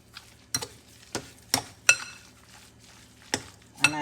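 Meatloaf mixture seasoned with garlic powder being broken up in a bowl, heard as a run of sharp, separate utensil knocks and scrapes against the dish at an uneven rhythm, close and moderately loud with no talk.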